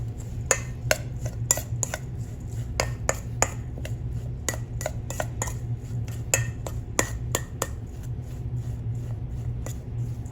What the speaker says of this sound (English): I'm like mashing and stirring. I'm pushing it down.